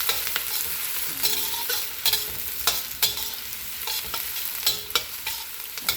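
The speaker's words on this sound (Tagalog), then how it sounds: "I-slow fry lang natin konti para hindi masunog yung ating onion" Onion slow-frying in a pan for a curry chicken side, a continuous crackling sizzle punctuated by regular stirring scrapes and clinks of a utensil against the pan, no voices.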